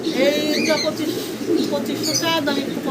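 A pair of Black Danish pigeons coo close by in soft, rolling bursts, with a voice talking alongside.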